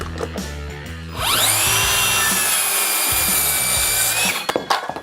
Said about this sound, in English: So I've got my 2x4 here.